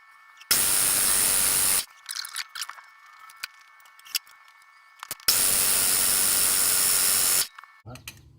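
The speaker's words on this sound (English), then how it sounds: "Got a fuel leak out of the top of this filter." Fuel sprays from a leaking filter on an Onan DJB generator in two sharp, loud hissing bursts, the first about a second long and the second about two seconds, separated by quiet clicks and small handling noises.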